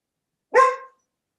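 A single dog bark, short and fairly loud, rings out close by against silence, with nothing else heard before or after.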